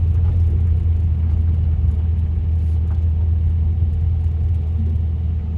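A 1979 Subaru car engine drones steadily while driving downhill, a loud, close, low rumble with no power steering, holding an even pitch throughout.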